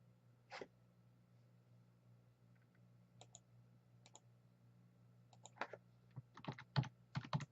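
Computer keyboard being typed on at a desk, a few scattered isolated key clicks early on, then a quicker burst of close, crisp keystrokes toward the end over a quiet steady hum.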